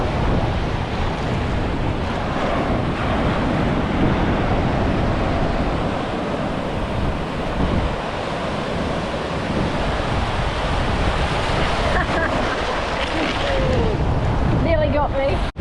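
Steady, broadband roar of ocean surf at Lucky Bay beach, continuous and fairly loud with wind buffeting the microphone throughout, and faint voices briefly near the end.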